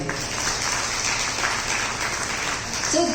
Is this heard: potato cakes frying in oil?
no